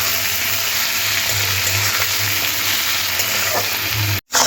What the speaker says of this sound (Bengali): পেঁয়াজটা তেলের মধ্যে দিয়ে একটু ভাজতে হবে।